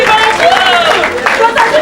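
A church congregation applauds and cheers in a short burst of crowd noise, dense and close, mixed with voices.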